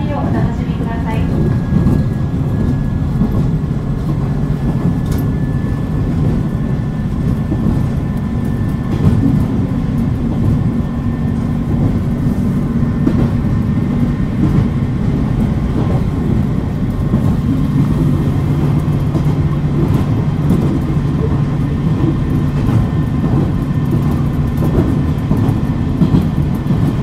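Steady interior running noise of a KiHa 47 diesel railcar on the Hisatsu Line between Hitoyoshi and Yoshimatsu, a continuous low engine and rail rumble with a faint tone and an announcement voice over it.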